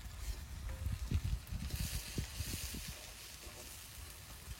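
Fish fries in foamy oil alongside prawn heads, a moderate bubbling crackle with busy low pops early on that settles into a softer, steady sizzle.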